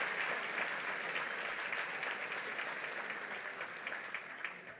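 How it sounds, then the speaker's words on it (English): An audience at the 2019 Democracy Gala claps steadily in a sustained, even wash of applause that holds at moderate volume and gradually tapers toward the end. "Let's give them all a big round of applause."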